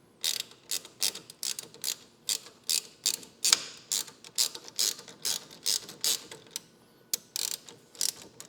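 A hand ratchet tightens chrome bolts on frame-mounted motorcycle highway peg mounts, with quick bursts of close, crisp clicking repeated in an even rhythm and short pauses between strokes.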